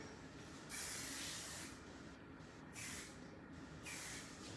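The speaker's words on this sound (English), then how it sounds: "I'm just taking this Sebastian Reshaper hairspray." Three short hissing spray bursts from an aerosol can of Sebastian Reshaper hairspray onto curled hair, close, separated by brief pauses, over a quiet background.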